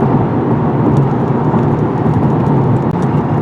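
A 2022 Honda Civic Hatchback rolls over rough, torn-up pavement in a construction zone, giving a loud, continuous rumbling road roar with a dense broadband wash and no talking.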